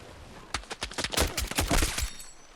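Gunfire from a DMR in the video game Battlefield 6 on the Tsuru Reef map, a rapid close string of loud sharp shots packed tightly together over about a second and a half.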